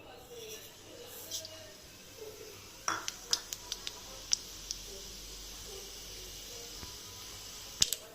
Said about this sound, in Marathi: तर बघा आपली मोहरी चांगली तडतडलेली आहे